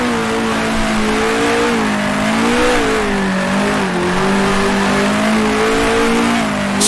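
A 1966 Formula One race car engine in Grand Prix Legends drones loudly and continuously around the Monaco circuit, pitch rising and dipping as the throttle is worked.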